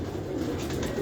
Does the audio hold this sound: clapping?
no